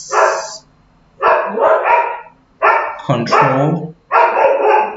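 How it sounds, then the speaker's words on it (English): Several dogs bark outside in loud, repeated bursts of overlapping yaps and barks, four clusters separated by short pauses, close and prominent; a voice speaks briefly. "These dogs are here."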